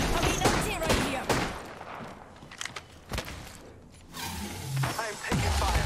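Video game gunfire crackles in scattered bursts alongside mechanical clanks and movement sounds, with a voice talking in between.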